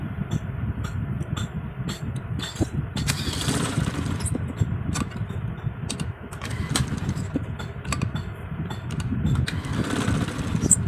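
A sewing machine stitches elastic onto a trouser waistband, its motor whirring in a busy, steady run with rapid needle ticking and brief pauses, close and fairly loud throughout.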